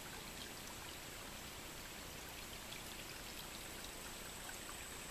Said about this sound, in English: This is going over one of the little feeder streams that dumps into Quantico Creek.